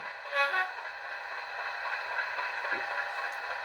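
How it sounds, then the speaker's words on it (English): Sound-decoder horn on a Hornby Class 50 model locomotive, a sustained two-tone blare from a small speaker, high note then low, steady and moderately loud with no talk. "F11 is the high low."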